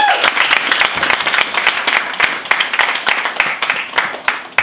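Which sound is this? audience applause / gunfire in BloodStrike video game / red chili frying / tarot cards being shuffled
audience applause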